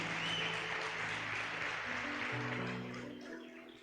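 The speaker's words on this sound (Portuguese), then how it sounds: "aplauda Jesus." Applause from a church congregation during a worship service, a steady broad wash of clapping that fades slightly toward the end, with sustained music tones underneath.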